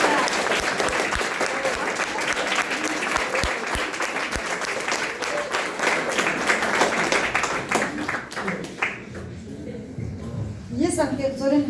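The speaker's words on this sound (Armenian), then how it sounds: "Բարձր, մի հատ բարձր ծափահարում" A school class audience gives loud, sustained applause that fades out near the end, followed by a voice speaking.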